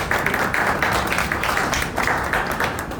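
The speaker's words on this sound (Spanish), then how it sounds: "Fuerte aplauso para los tres" Audience applause at a crypto entrepreneurship conference panel, honoring three speakers: steady, dense clapping that holds at an even level for the full stretch.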